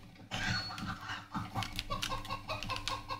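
Video-game chickens clucking: a soft, busy run of clucks and short calls, heard faintly over background game sounds.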